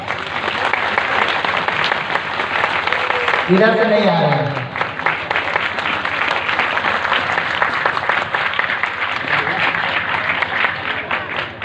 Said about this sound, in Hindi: उनके लिए जम ताली हो जाए।